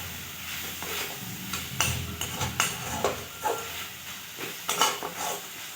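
A spoon stirs a milk mixture in a pan for a palm-flavoured saptapuri pitha, giving repeated scraping strokes over a soft bubbling sizzle. The strokes are close and irregular, and no one speaks.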